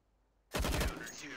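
Counter-Strike: Global Offensive gunfire breaks out after a quiet half second, becoming a loud, dense rapid burst of shots that holds to the end.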